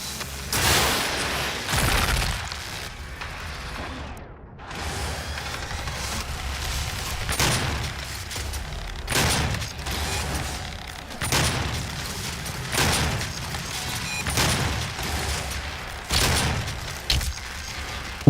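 Repeated rocket explosions and heavy combat blasts from DOOM (2016) on Nightmare difficulty, loud booming bursts with rapid gunfire-like crackle recurring every second or two throughout, no voices.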